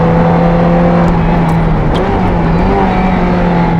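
A Ferrari F355 Challenge race car, driven on an open road, holds a loud, steady high-rpm engine drone with a strong tonal whine throughout, sounding close and continuous, with no talking.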